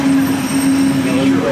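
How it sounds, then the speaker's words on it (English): Disneyland monorail gliding along its elevated track, a steady loud electric hum with a sustained whine running throughout, heard from inside the car. "Dude, we're back on the monorail."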